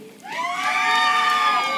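A graduation commencement crowd erupts into loud cheering, whoops and high shouts after a name is read, the noise swelling quickly and holding at full strength.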